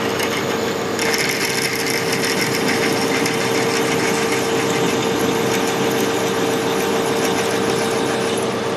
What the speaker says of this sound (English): I'm going to drill here, that's one size below